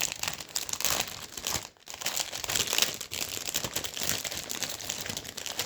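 A plastic bag holding a Revell 1/72 model kit sprue frame crinkles and rustles close up as it is opened, the busy crackling running almost continuously with one brief pause, and no talking.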